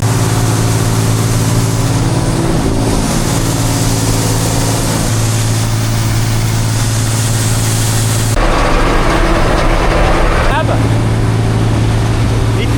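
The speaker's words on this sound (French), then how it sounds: "Le moteur et toute la machine ça va, mais c'est la coupe, ça fait un brouhaha." A 1981 combine harvester runs loud and continuously while its cutter harvests barley, a heavy droning engine and machinery roar filling the whole stretch, with people talking over it.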